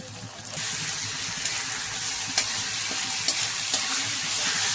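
Onions frying with ginger and garlic paste for Bangladeshi beef rezala give a steady, close sizzle, with occasional soft stirring clicks and scrapes and no voices.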